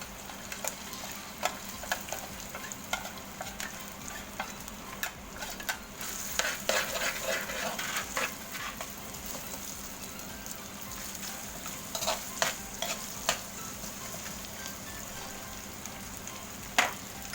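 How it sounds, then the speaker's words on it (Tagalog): Smoked fish (tinapa) is sautéed in a pan, with steady sizzling and frying close by and repeated scraping and stirring clicks from a utensil throughout, and no talking. "Kasama na natin yung sa paggisa, yung tinapa."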